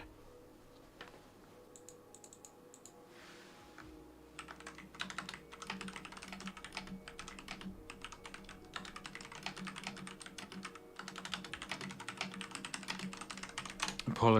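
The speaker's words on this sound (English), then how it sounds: "just messaging away if you can hear the clitter-clat of my keyboard" Rapid clattering keystrokes on a computer keyboard, faint at first and then busier and denser, with soft room noise behind them.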